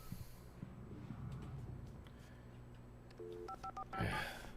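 Telephone keypad tones dialing in the video game Alan Wake Remastered, a quick series of distinct beeps over a low ambient game hum, ending in a brief louder burst.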